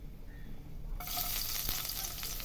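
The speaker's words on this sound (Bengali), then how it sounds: "রসুনটা একটু ভাজা ভাজা হয়ে গেলে" Chopped garlic fries in oil with cumin seeds and torn dried chilies. A quiet hiss jumps to a loud, close, crackling sizzle after a second and stays steady, with no voices.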